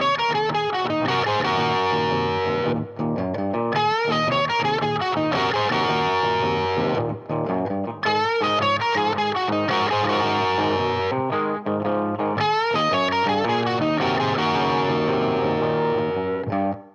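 Distorted electric guitar playing a blues lick with a rhythm part, loud and continuous, repeating phrases of bent notes and chords with short breaks between them, no voices.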